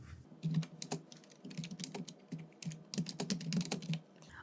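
Typing on a computer keyboard while working in Excel, close and quiet, with quick irregular clusters of keystrokes and short pauses, no talking.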